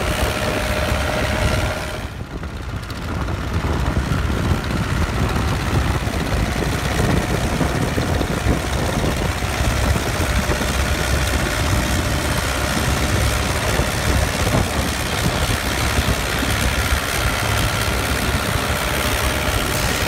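Fishing boat engines rumble steadily as the vessels return slowly together to the dock at Muncar harbour, a continuous low idling drone with a brief dip near the start, loud and close, without talk.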